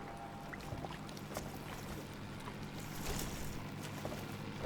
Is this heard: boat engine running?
yes